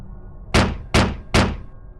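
Three loud, evenly spaced knocks strike a house door, close and sharp, each one fading quickly, with silence before them and no voices.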